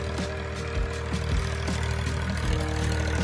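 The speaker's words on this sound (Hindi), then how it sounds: "खेत की जुताई हो रही है, देखिए ट्रैक्टर" A tractor ploughs a village field in the UP-Bihar countryside, its engine chugging steadily with rhythmic knocking pulses and a continuous low drone, close and fairly loud.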